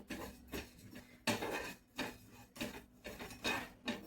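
Coriander, cumin and fennel seeds are dry-roasted in a pan over a low flame, giving soft rhythmic scraping and rattling strokes roughly every half second, faint and close, with no talking.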